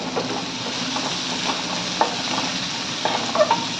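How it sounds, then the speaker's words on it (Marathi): Onion and capsicum are stir-fried in a pan for veg hakka noodles, making a steady, close sizzle with soft stirring scrapes and a few light metallic clinks. "आता एक एक करून भाज्या घालणार आहोत आपण. आधी कांदा,"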